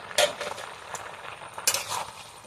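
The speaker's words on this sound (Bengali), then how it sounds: "মোচাটা ঢাকাটা খুলে দেখবো সিদ্ধ হয়ে গেছে কি" A metal lid comes off a pot of boiling banana flower, giving two bright clinks about a second and a half apart over a soft kitchen background.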